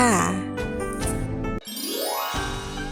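A bright notification bell jingle rings with tinkling chime tones and a rising sweep, mixed with music and fairly loud throughout.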